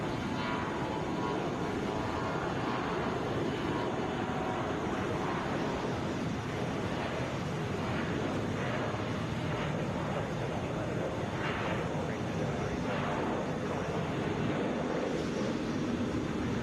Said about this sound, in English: Another Louisiana flight here. Delta Connection to Lafayette in my favorite Mitsubishi plane